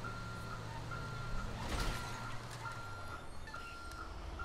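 A vehicle reversing in Grand Theft Auto V gives a quiet, evenly spaced series of electronic backup beeps over a low engine hum, with a brief louder rustle midway.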